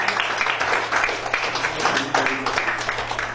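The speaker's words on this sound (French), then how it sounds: "Je vous demande chaleureusement d'applaudir l'évangéliste Jérôme." A church congregation applauding an evangelist, a dense steady wash of many hands clapping together in a reverberant hall, with voices mixed in underneath.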